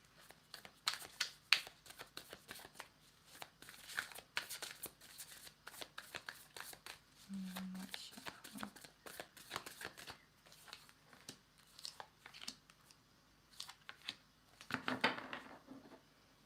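Tarot cards shuffled by hand at a reading table, a busy run of quick papery riffles and flicks, close and continuous, with a faint voice now and then.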